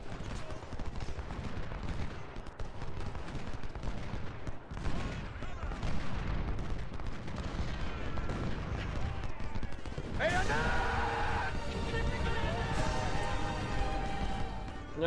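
Cannon and musket fire from a Civil War battle at Fredericksburg in the Ultimate General: Civil War video game, a dense continuous roar of booming shots that swells louder and brighter toward the end.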